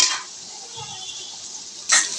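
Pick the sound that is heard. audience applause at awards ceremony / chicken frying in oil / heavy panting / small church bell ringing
chicken frying in oil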